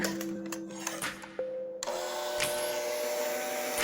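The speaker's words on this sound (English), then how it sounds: "just going to go ahead and use our mixer." A handheld electric mixer whirs steadily as it beats sugar cookie dough, a close motor hum with a pitch shift partway through and no talking.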